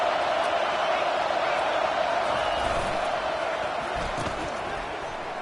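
A packed stadium crowd at an NCAA college football game roars in a steady, dense, loud wall of noise as fans try to help the defense.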